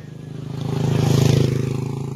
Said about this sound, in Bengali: আমাদের হিরো হন্ডা চালিয়ে এক্ষুনি দাদা আসছে।